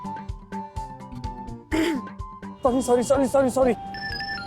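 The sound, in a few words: mobile phone ringing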